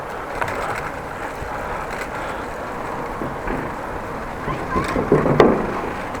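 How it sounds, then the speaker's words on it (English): Bicycle tires roll across a bridge deck, a steady loud rumbling whir with wind noise that swells slightly toward the end, with a brief rattle of the surface underneath. "driving over the bridge, by the way, if you're interested what's the sound underneath my tires"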